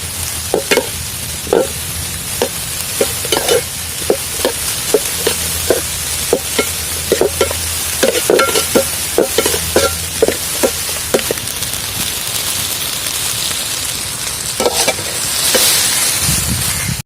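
Onions being stirred in a frying pan for a roasted egg curry, with repeated sharp scraping strokes of a spoon over a steady sizzle, close and clear, no talking.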